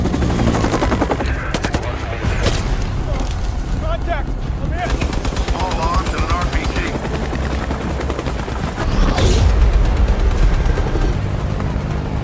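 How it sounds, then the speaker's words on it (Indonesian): Bursts of automatic gunfire crack out over the loud whirring drone of a helicopter at a jungle pickup site in the Philippines in an action film, with heavy impacts and a voice briefly heard amid the chaos. "Ketika Kenny hendak mendekat, tiba-tiba dia ditembaki oleh para anggota militan."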